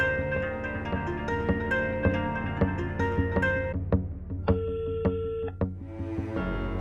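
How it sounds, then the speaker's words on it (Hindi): A telephone rings with an incoming call in an indoor drama scene, its electronic tone sounding in short repeated bursts over steady background music, with no talking. "फोन उठाओ ना।"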